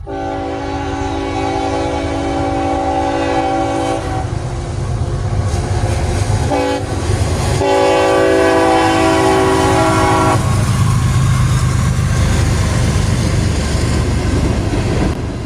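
An empty freight train headed for New York City rolls past close by, a loud steady rumble of wagons with a long sustained horn blast sounding over it.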